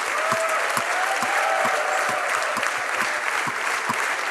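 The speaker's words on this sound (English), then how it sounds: "So everybody keep clapping, sir." An audience at a business talk claps continuously, a dense steady wash of applause throughout, with a few louder individual claps standing out near the front.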